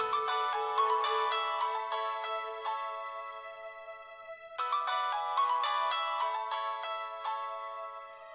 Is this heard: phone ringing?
yes